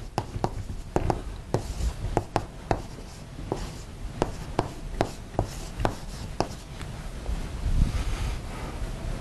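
Equations being written on a board: a steady series of sharp taps and short scratchy strokes, fairly close and clear, over a faint background hiss with no talking.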